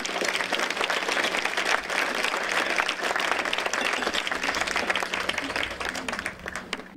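Audience applause at the inauguration of a town media library, a sustained round of many hands clapping in a hall, fairly even in level and tapering slightly at the end.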